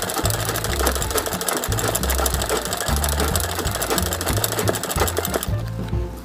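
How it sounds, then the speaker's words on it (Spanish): Noisy home sewing machine stitches an embroidered design of three roses, a loud, fast, steady mechanical rattle with a rhythmic low thumping pulse, running close and continuously before easing slightly at the end. "Yo con mi máquina que hace ruido como el tren cuando pasa por mi colonia."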